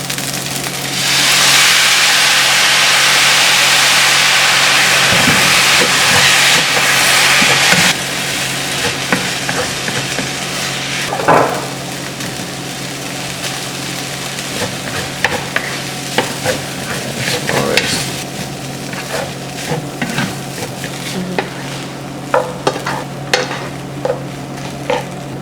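Egg fried rice frying in a hot pan as soy sauce is added, a loud steady sizzle for the first several seconds, then easing into quieter frying with scattered stirring clatters and scrapes, no talking.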